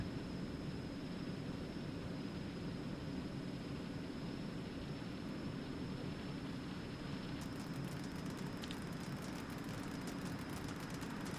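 Small airplane in flight during mountain flying, its engine droning as a steady, loud broadband roar that fills the whole span without a break.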